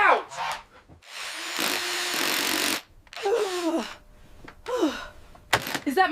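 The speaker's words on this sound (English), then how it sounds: "Is that my Makita drill?" A Makita cordless power drill whirs in a sustained burst of a couple of seconds, between short bursts of vocal sounds and gasps before and after.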